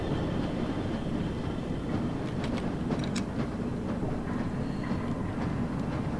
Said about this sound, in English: On with the train.